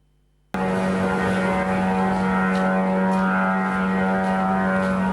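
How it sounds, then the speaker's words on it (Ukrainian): After a moment of quiet, a loud buzzing propeller-engine drone of a Shahed attack drone cuts in abruptly and stays constant, close and overhead above a residential area of Dnipro, with a steady droning pitch. "Звук шахеди, що летить просто над житловим кварталом Дніпра."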